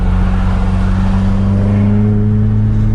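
A Volkswagen Mk1 Golf with a 2.2L ABF engine and individual throttle bodies drones loudly at low revs while driving, a steady deep engine hum heard from inside the car.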